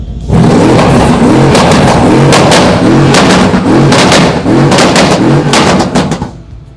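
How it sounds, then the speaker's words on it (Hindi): A Mercedes-AMG engine with the pops-and-bangs exhaust mode enabled revs repeatedly, loud and close, with a throaty roar broken by sharp crackling pops and bangs in a steady rhythm for several seconds. "सो आपने देखा ये गाड़ी इस पॉप्स एंड बैंग्स इसमें ऑन है।"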